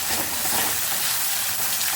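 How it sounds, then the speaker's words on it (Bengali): Chopped onions fry in a pan with bay leaves and salt, giving a steady, dense sizzling hiss close up with no speech over it. "পেঁয়াজটা আমি লাল করে ভেজে নিয়েছি"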